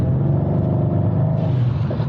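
A JB4-tuned Mercedes C63 accelerates, its engine a loud, close, steady low rumble and drone from inside the cabin that holds strong throughout, with a slight rise in tone partway through and no voices.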